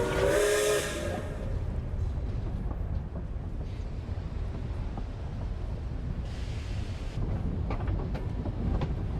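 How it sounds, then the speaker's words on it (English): A train at Snezhnagrad station in the Genshin Impact video game, with a loud steam whistle blast at the start, then a continuous rumbling, hissing rail clatter and a softer hiss partway through. "Welcome to Snezhnagrad train station, the biggest transport hub in the nation"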